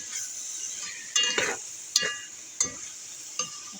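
A spatula or spoon stirs ginger-garlic paste in a frying pan for prawn biryani, with several distinct scraping strokes over a steady close sizzle.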